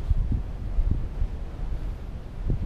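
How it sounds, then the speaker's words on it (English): Strong gusts on the summit of Cadair Berwyn buffet the microphone, producing low irregular thumps and a rough rumbling roar that swells and drops, close and fairly quiet, with no voices. "it's far too windy up here"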